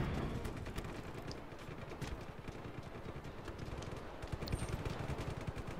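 Machine-gun fire from the tower-mounted gun in Just Cause 3: rapid, dense bursts of shots run almost without pause, heard faintly and at some distance.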